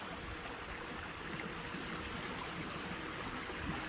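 A shallow vernal stream flows through wet woodland near an abandoned canal village, a steady close trickling and babbling rush that runs unbroken from start to finish.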